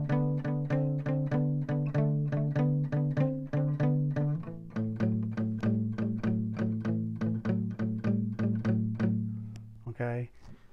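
An acoustic guitar plays a three-finger 12-bar blues riff, steady repeated plucked bass notes shifting strings midway, close and clear, ending with a brief strum.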